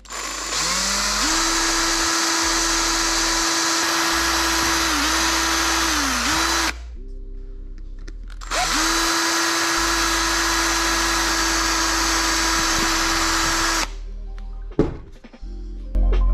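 Power drill with a 2.5mm bit boring into a Honda Civic EG6 gauge cluster part, two long steady whining runs separated by a pause, then a short clatter and a brief final burst, loud and close.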